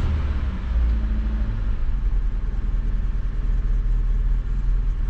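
Fiat Punto engine idling after a cold start, a steady low rumble close by with a slight uneven beat and no voices over it.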